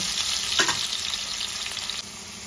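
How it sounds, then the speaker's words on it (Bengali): Salted potato pieces fry lightly in a pan, a close, bright hissing sizzle with a brief stir near the start, steady then slightly quieter at the end. "আলুটা হালকা করে ভাজা হয়ে গেছে"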